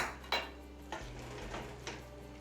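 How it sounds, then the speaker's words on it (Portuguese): Mushroom risotto stirred gently in a pan, with a few soft scraping and clinking strokes of a spoon against the metal, quiet and close with no talking. "Mexendo bem delicadamente para você não fazer uma papa, né, de arroz aqui."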